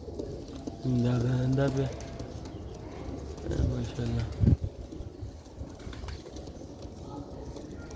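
Pigeons cooing close by, a few sustained throaty coos with someone talking over them outdoors.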